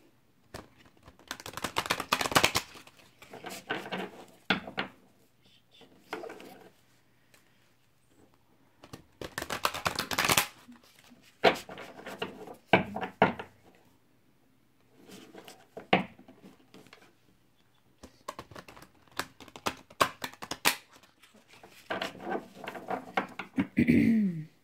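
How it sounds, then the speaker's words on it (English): Tarot cards are shuffled in several separate bursts of quick riffling and patting, close and moderately loud, with short quiet gaps between the bursts. "I'm just going to shuffle these cards real quickly."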